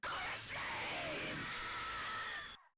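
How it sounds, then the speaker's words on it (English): Jeff the Killer scream sound effect, a single loud, sustained shriek lasting over two seconds before cutting off abruptly into silence. "Wait a minute, there's actually like a Jeff the Killer sound effect here."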